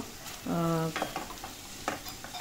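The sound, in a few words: stirring mushrooms into masala in a pan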